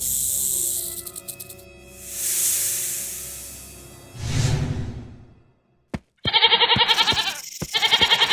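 An animated goat in a cartoon story bleats in two quavering, pulsing cries near the end, following swooshing effects and a pause of near silence.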